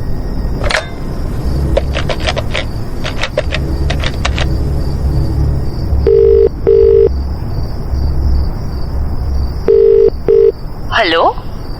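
A telephone number being dialed: a quick series of keypad tones, several clustered bursts, then longer paired tones later with a ringing-like warble at the end, over a low background rumble.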